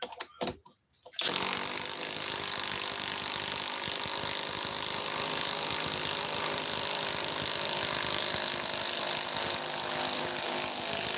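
A ratchet or driver runs continuously at close range for about ten seconds after a brief silent start, a dense, even mechanical whir with rapid clicking texture and no talk over it.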